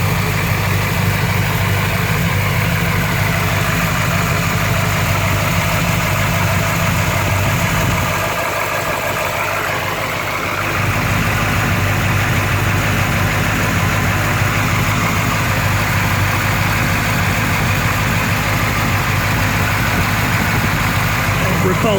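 A 1972 Chevy C10 4x4 truck engine idles steadily at close range, a low continuous rumble throughout with a brief dip partway, while someone looks underneath for leaks.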